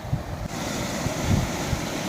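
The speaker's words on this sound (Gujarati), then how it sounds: "રસ્તા ઉપર પાણી આવી ગયું છે હવે કોઈના ખેતરમાં પાણી જવાની ભીતિ થઈ રહી છે અને અત્યારે વેસ્ટેજ પાણી જઈ રહ્યું છે" Water pouring from a breach in a minor irrigation canal onto a road beside farm fields, a steady close rushing wash mixed with wind buffeting the microphone, with no voices.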